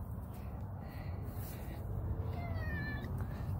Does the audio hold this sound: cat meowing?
yes